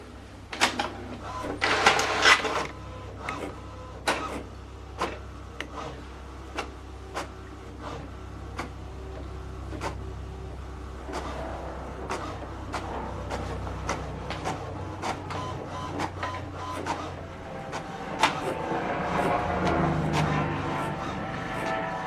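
HP DeskJet 3700e printer printing a print head alignment page, with sharp mechanical clicks and ticks, short whirring motor runs and paper feed sounds, close and fairly quiet, with no talking.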